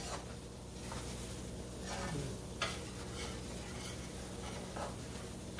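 A spoon scrapes steadily through flour browning in a pan for gravy over a soft continuous sizzle, with a few sharper strokes against the pan along the way.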